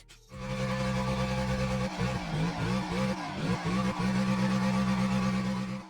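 Car tires screeching and skidding in the mobile racing game Assoluto Racing, a loud sustained squeal over a droning engine, wavering as the car slides through a turn.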